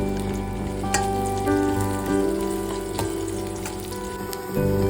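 Steady crackling sizzle of mustard seeds and cumin frying in hot oil in a pan for fish curry, close and continuous, with a few sharp pops and a clink of utensils.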